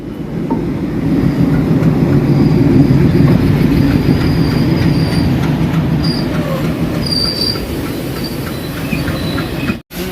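Steady, loud rumble of a train rolling behind an ALCO diesel locomotive on the Velankanni to Ernakulam route, with wheel squeal and rail clatter running throughout and a brief dropout right at the end; no voices.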